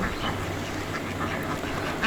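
An adult duck quacks in a few short nasal calls over a steady low background hum, moderately close, with no talk.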